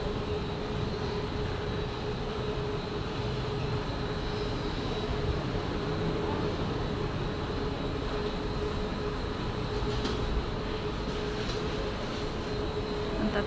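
Inside an MRT train, a loud, steady rumble of the ride carries on without pause, with a faint rise in clatter near the end and no talking.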